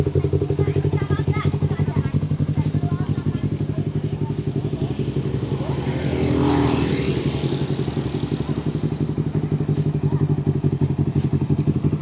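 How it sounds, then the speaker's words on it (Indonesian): A motorcycle engine runs close by at a steady idle, with a fast, even pulse and a brief swell in the middle. "Nah ini yang hidupin motornya tuh."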